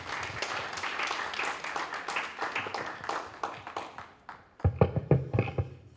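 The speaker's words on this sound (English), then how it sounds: "Applaud her as she sits, people." Audience applause at a women's sports conference in Uganda, dense clapping filling the room for about four seconds, then a short pause before a second burst of sharper, closer hand claps.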